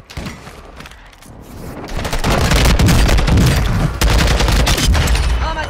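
Loud, dense gunfire in a first-person shooter match: rapid automatic bursts and heavy thumping shots, building from a quieter opening into a sustained, close barrage.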